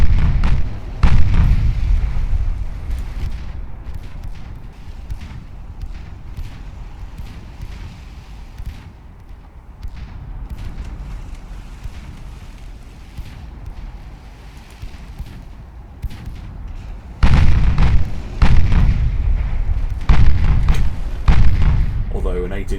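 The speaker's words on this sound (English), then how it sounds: "This is where these small guns absolutely come into their own. Absolutely piling on damage," Naval battle in Ultimate Admiral Dreadnoughts, with small 2-inch guns piling fire onto transports. Heavy booming gunfire runs under steady commentary, thickening into louder repeated blasts near the end.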